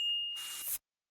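A single bright notification bell ding rings out clearly, its clean tone sustained before a brief burst of airy noise that cuts off abruptly into silence.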